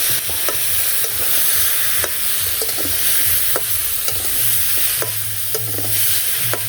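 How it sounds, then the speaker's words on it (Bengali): Potatoes frying in a pan with salt, turmeric and chili, steady sizzling broken by repeated scraping stirs of a spatula, close and fairly loud with no talking. "আলুগুলো ভেজে নিলাম এখন এনে লবণ হলুদ মরিচের ফাঁকি সব কিছু দিয়ে দিলাম একসাথে"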